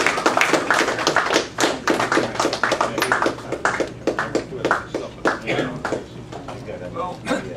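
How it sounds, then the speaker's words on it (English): Audience applause for a speaker at an evening talk, a dense wash of many hands clapping steadily and fairly loud for several seconds, filling the room without any voices over it. "I'd like to give a big, round, rousing warm of applause for David Ramsay Steele"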